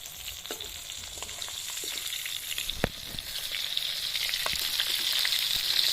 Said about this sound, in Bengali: মাছগুলো ভাজা হলেই